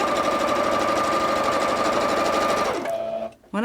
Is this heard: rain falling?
no